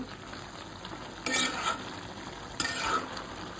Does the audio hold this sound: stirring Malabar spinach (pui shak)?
yes